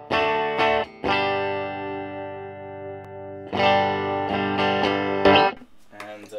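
Electric guitar played through a Marshall BB-2 Bluesbreaker pedal set to a clean tone, sustained strummed chords that ring out with a long decay and short pauses between them, heard alone.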